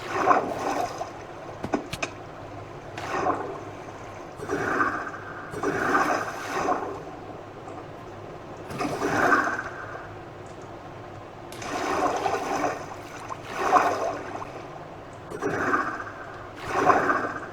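Water in the Minecraft video game gives a steady, rhythmic series of sloshing, splashing swells, each a second or two long, recurring every couple of seconds over a constant low background rush, with no talking.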